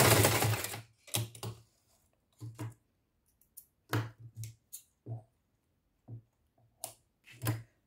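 A sewing machine backstitches a fabric cover for a charger plate: a fast stitching run at the start, then short, separate bursts of needle clatter with quiet gaps between them, heard close up.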